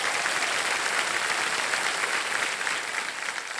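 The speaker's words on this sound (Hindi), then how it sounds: "इनको ताली बजा करके इनका स्वागत किया जाए।" A studio audience applauding on the TV quiz show Kaun Banega Crochpati, a dense, even roar of many hands clapping that holds steady throughout, easing slightly at the end, with no voices over it.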